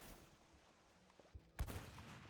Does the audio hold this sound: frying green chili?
no